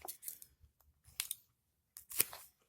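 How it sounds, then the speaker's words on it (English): A Victorinox Hunter XT folding knife slices through plastic banding, giving three short, crisp snapping cuts spaced apart against an otherwise quiet background. "Let's try cutting this banding."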